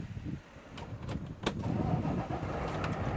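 Truck engine cranking over with a few quick clicks and whirs before catching and settling into a rough, steady idle, heard fairly close at moderate loudness with no talking.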